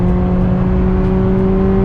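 A VW Polo GTS engine gives off a steady, throaty rumble with a sporty exhaust note, close and continuous, holding an even pitch rather than climbing, with no talking over it.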